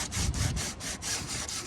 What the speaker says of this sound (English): I'm taking the sandpaper and I'm filing down the little bumps.